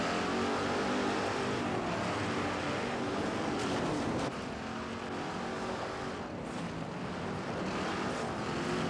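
Rally cars racing in the video game 3D Motors: BAJA, a continuous engine roar with a sharp shift in pitch midway, heard at moderate level without any talk.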